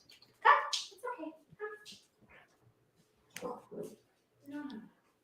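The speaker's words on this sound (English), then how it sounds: "Sorry, my dog's barking." A dog barks indoors in several short, loud bursts separated by brief pauses, with a few softer yips between them.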